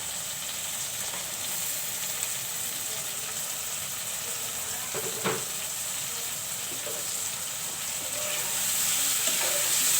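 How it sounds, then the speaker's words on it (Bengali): Tomatoes added to frying spices in a pan while cooking a fish curry with tomato, a constant soft sizzle with a few brief scrapes of stirring, growing slightly louder toward the end. "মশলাগুলো কষানো হয়ে গেল, এখন টমেটো দিয়ে দিব। টমেটো দিয়ে দিচ্ছি।"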